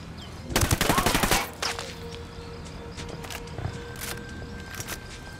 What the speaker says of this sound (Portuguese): Estão atirando nesses bostas.